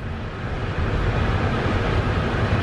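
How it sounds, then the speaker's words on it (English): Car air conditioning vents blow on max in a steady, loud broadband whoosh of rushing air that fills the cabin without pause, with no voices. "Sorry for the noise, that's just from the AC vents there."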